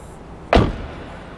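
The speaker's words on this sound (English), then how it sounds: "Shuts like a normal door." A single solid thud of a car door shutting, loud and close, with quiet background before and after.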